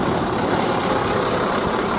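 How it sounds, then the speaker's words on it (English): A big lorry drives past on a road beside a church in North Belfast, producing a loud, steady broadband roar of engine and tyre noise that fills the whole moment, close by. "Big lorry on the road."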